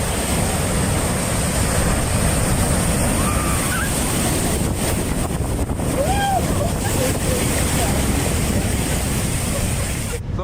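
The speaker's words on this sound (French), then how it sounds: "les vagues étaient bien plus puissantes que prévu. Elles ont franchi les barrières de sécurité et se sont abattues sur les passants" Powerful storm waves crash over the promenade in Batumi, Georgia, a loud, continuous surf roar mixed with gusting wind noise and faint distant voices.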